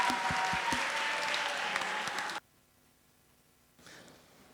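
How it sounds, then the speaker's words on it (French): Audience applause fills a church hall for over two seconds, loud and dense, then cuts off abruptly into near silence before a faint rustle returns. "Applaudissements s'il vous plaît."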